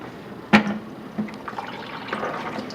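A floor-cleaning mop is wrung out in a bucket with a press board: a sharp squelch and splash near the start, then faint trickling and dripping of dirty water.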